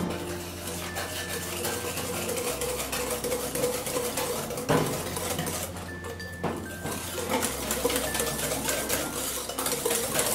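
Buttermilk stirred into pie filling in a mixing bowl, with continuous close scraping and clinking of a utensil against the bowl, fairly loud and steady, with no talk.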